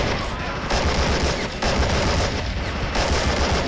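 Sustained machine gun and rifle fire in the Army Men war game, a dense continuous battle of rapid shots and booms that runs loud throughout.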